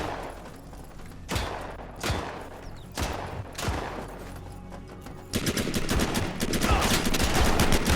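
Rapid bursts of gunfire from the video game Shattered Skies, including shotgun blasts, crack in a loud close sequence of separate shots that thicken into dense continuous firing near the end, with no speech.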